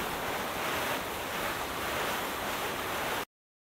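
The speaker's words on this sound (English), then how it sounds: "Jibbers, the water is choppy, Captain Frank said." Choppy water in a storm makes a steady, dense rush of surf and wind noise that runs unbroken before cutting off abruptly.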